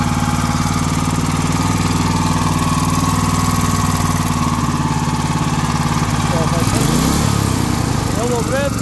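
A Duromax 500cc small engine with its governor removed runs steadily at a loud, close, buzzing idle, then revs up sharply near the end. No speech is heard over it.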